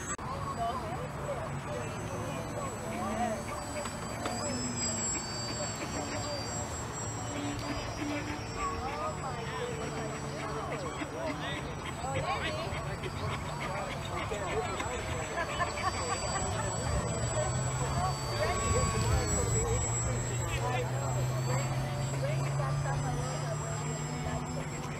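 A foam board RC airplane flies outdoors, its electric motor buzzing steadily for the whole stretch with a rising whine near the end, continuous and fairly close.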